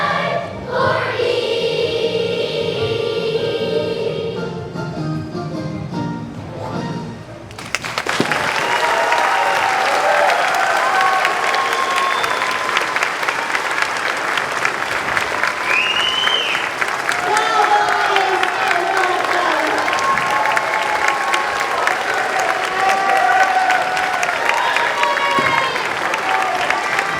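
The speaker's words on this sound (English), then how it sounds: "Let's give a big round of applause for our main chorus." Audience applause at an elementary school spring concert breaks out loudly after a song ends, a thick roar of clapping from a large crowd with some cheering and voices, carrying on steadily for about twenty seconds.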